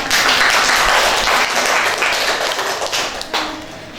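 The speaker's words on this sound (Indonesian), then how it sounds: "Mari kita beri aplaus kepada teman-teman" An audience in a campus classroom claps, a dense burst of applause that runs loud and steady, then thins and tapers off toward the end.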